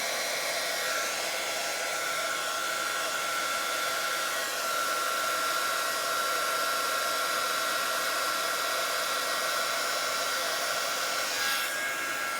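Hot air blower blowing white mica powder across a cheeseboard, a loud steady whooshing hum of fan and rushing air that runs unbroken throughout, with no voices.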